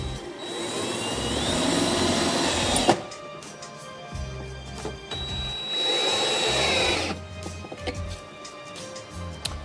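A power driver drives screws to mount a charger, two sustained whirring runs of about three seconds each separated by a pause, moderately loud and close with no talking.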